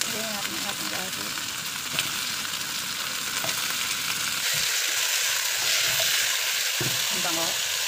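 Garlic sizzles and crackles in a frying pan for a watercress soup, a dense, continuous frying hiss broken by occasional stirring scrapes, with a brief voice heard faintly at moments.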